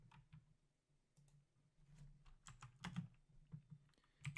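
Keys clacking on a computer keyboard, an irregular run of quick taps with a few louder strokes, close by and steady.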